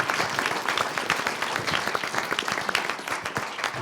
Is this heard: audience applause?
yes